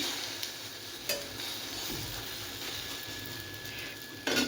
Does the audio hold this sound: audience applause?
no